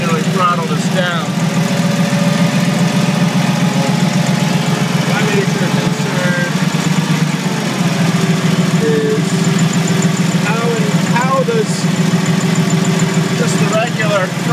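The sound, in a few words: 1971 Clark C500 Y80 forklift engine idling high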